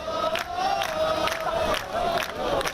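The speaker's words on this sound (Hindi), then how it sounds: "नाराज लोग एक कोर्ट के बाहर जमा होकर नारेबाजी करते दिखाई दिए" Protesters waving flags and posters outside a court shout slogans in a dense, continuous crowd roar, with rhythmic chanting surges rising every half second or so.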